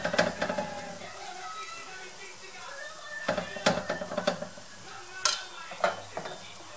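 Pancake batter fries in a pan with a steady soft sizzle, broken by sharp scrapes and knocks of a utensil against the pan during flipping, close and fairly loud, with a voice speaking briefly.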